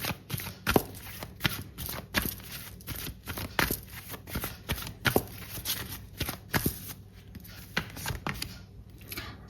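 Tarot cards are shuffled and drawn by hand in a quiet room, giving a steady run of close, crisp riffling slaps and flicks at an uneven rhythm with no talking.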